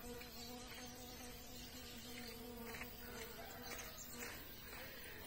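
Bees and other insects buzz steadily around flowering acerola shrubs in a small town square in spring, a continuous close hum with no talk.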